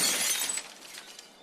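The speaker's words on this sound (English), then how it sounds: "Now a stylish glass coffee table." A glass coffee table shatters in a loud, bright crash that fades into scattered tinkling of falling shards, with no voices.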